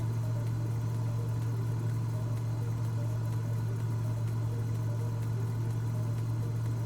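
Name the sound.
aircraft engine near idle at reduced throttle, from flight simulator game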